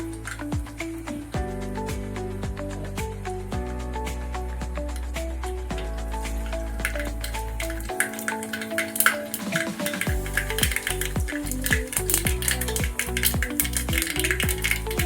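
Half a spoon of mustard seeds crackles in two ladles of hot oil in a pressure cooker, giving scattered sharp pops and sizzle beneath steady background music.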